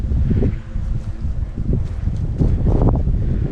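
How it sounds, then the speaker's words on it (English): Steady wind gusts buffet the microphone with a constant low rumble and roaring noise throughout, loud and close, with no other clear sounds. "It's quite windy up here as well"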